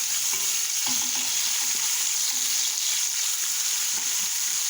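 Vermicelli and garlic sizzle steadily as they fry in a pot for Egyptian koshari, with faint scrapes and knocks of stirring coming through close by.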